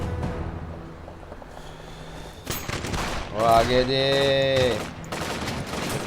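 A volley of rapid gunfire from a drama series, with sharp, dense bursts of shots rising into a loud sustained clatter before dying away, a brief spoken voice near the start and music tones ringing through.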